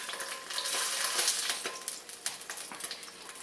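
Kung pao shrimp fry in hot oil with a loud, crackling sizzle full of sharp pops, easing slightly toward the end as the last pieces are lifted out, with no voice heard.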